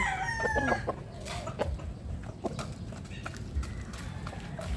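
Chickens and chicks at a backyard poultry farm during afternoon feeding, a rooster crowing early among clucking and pecking, with scattered thumps and rustling close by.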